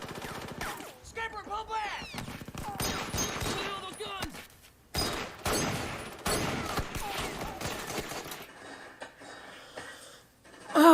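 Gunfire from the World War II series The Pacific, set at Peleliu airfield: bursts of rapid automatic fire and scattered shots over chaotic shouting and battle noise, cutting off into near silence toward the end.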